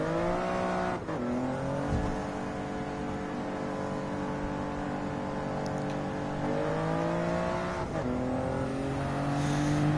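A TCR touring race car in Gran Turismo 7, part of a Toyota Gazoo Racing GT Cup series, holds a loud, steady engine drone near and continuous, with a couple of sharp gear-change dips and the revs climbing again.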